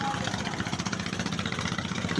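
Fishing trawler engine on the Meghna river in light rain, a steady rapid chugging throb held at moderate distance for the whole stretch, with faint voices in the background.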